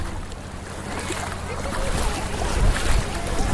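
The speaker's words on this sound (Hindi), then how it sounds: "ये देखिए पानी वापस जा रहा है, लौट के आ रहा है।" Sea water at Gangasagar washes out and rolls back in on the shore, a soft broadband surf hiss that builds louder toward the end, mixed with light wind.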